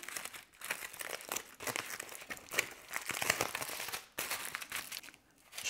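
Aluminium foil wrapping crinkles and crackles as a small package holding real wasabi is pulled open by hand. The rustling is close and fairly quiet, continuous with brief pauses, and no voice is heard.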